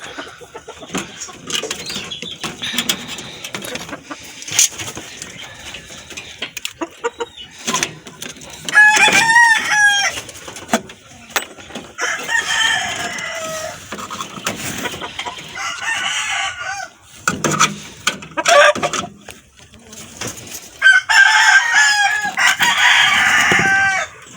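Roosters crow loudly several times among a flock of clucking chickens, with scattered wing flaps and busy farmyard noise throughout.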